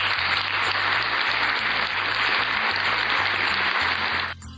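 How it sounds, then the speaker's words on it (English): Steady broadband clapping from a group sustains at an even level for about four seconds, then cuts off abruptly, with soft background music underneath. "Let's have a round of applause for you are doing a great job."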